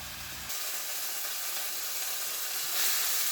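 Cube steak fries in a pan with a steady, close sizzling hiss that grows a little louder near the end.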